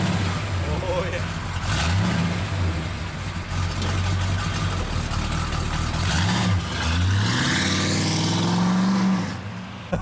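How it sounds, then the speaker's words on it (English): A Plymouth Superbird's engine drones steadily from inside the car while driving. The pitch of the revs rises and falls several times, loud and close throughout. "Oh my God, I'm driving a Superbird."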